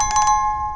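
A bright notification bell chimes in a quick cluster of four rapid rings that ring out into a sustained tone, clear and alone.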